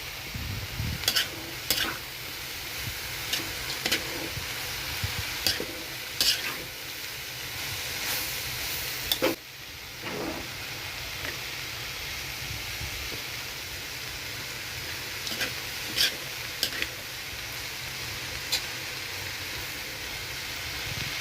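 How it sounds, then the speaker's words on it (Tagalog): Food being stirred in a frying pan over a sizzling heat, with a constant loud hiss and frying crackle and repeated sharp scrapes and clanks of the utensil against the pan, and a brief lull partway through. "Haluin hanggang ilalim."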